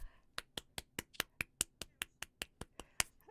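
Around fifteen sharp hand claps in a steady, fairly quick rhythm, close and crisp, with a faint voice beneath at the start.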